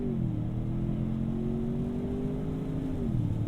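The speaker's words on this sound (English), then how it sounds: "left foot on the brake, flooring it with the right, and off we go." A 2021 Ford Bronco Sport launches and accelerates hard, its engine note holding a low, steady drone with a gear change near the end, heard from inside the car with no talk.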